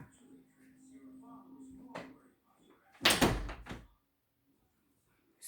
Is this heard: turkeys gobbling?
no